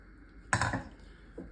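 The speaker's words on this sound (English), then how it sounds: "Give that a good stir" A spoon scrapes and clinks against a crockpot while stirring beef, corn and cooked egg noodles into a cheesy casserole, one sharp clattering stroke followed by a softer knock, close and alone.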